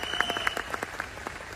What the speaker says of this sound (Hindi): एक बार जोरदार तालियां इनके लिए हो सकती हैं,